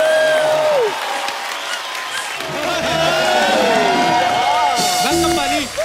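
Studio audience clapping and cheering on a comedy talk show as a Bollywood singer is welcomed, steady and loud throughout, with a host talking and music over it.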